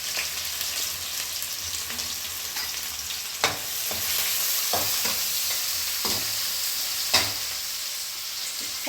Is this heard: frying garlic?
yes